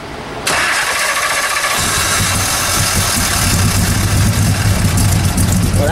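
A Shelby Daytona cold-starts after sitting for three months. It cranks briefly, then catches and roars into a loud, rough, steady idle that runs to the end.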